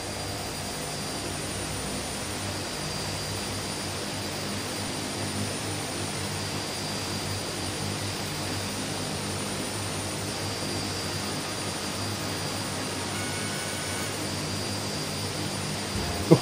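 A DHC-6 Twin Otter in Microsoft Flight Simulator makes a flyby over Victoria high country, its turboprop engines giving a steady, even roar with a high whine that holds throughout, with no speech.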